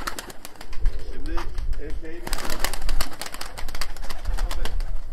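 Konya Abdal Arap play pigeons flapping their wings in repeated bursts of flutter, with someone talking over and between the wing sounds.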